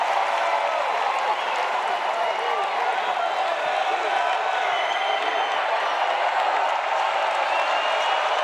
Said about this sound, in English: once again the UCF crowd as loud as it's been all night